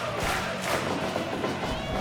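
A wrestling crowd in a small house-show setting cheers and shouts in a loud, sustained roar, with rising bursts of yelling throughout.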